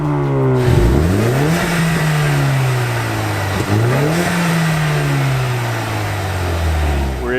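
A 2020 Ford Mustang EcoBoost with active exhaust revs hard through repeated rising engine pulls, each climbing in pitch before dropping and building again, loud and close with no talking.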